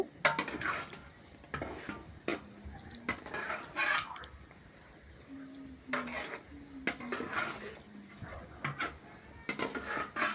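Biryani masala and polao rice being stirred and fried in a pot, with a close metal spoon scraping and clinking against the pot in irregular bursts over a low background.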